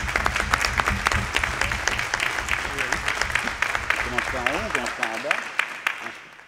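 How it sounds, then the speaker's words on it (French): A municipal council's steady applause for newly elected deputy mayors fills the room, a dense patter of many hands with someone speaking over it throughout. "Vous pouvez vous applaudir"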